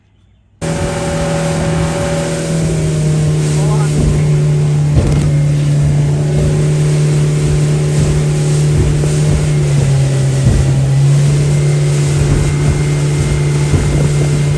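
A small fiberglass motorboat's engine drones loudly and steadily throughout in rough water, with hull thumps and water rushing past as it runs.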